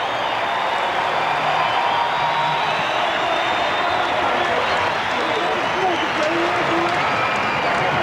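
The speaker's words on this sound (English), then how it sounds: "listen to the applause for Gerald Perry." Baseball crowd at a Braves vs. Cardinals game applauding Gerald Perry, a steady, dense wash of clapping and cheering that fills the stadium throughout, with faint voices mixed in.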